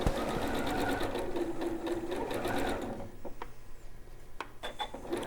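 A sewing machine stitches a quilt block for a cushion, running in a fast rhythmic whir for about three seconds, then stopping to a few scattered clicks and handling sounds.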